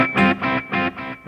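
Brief electric guitar rhythm through a quarter-note delay: four evenly spaced strummed pulses, each ringing briefly with its echo, close and moderately loud.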